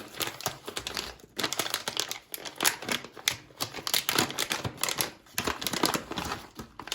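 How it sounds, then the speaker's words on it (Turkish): A package of dried mulberries being opened, with dense, continuous crinkling and rustling of plastic packaging at close range throughout and no talking. "Şu şekilde dudumuzun paketini önce bir açalım."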